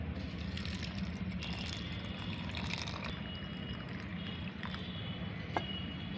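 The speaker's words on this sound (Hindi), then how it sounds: "अब इसको हम पानी से भर देते हैं।" Water is poured to fill a container holding tea leaves, a soft, steady trickling and splashing stream heard faintly and continuously, without speech.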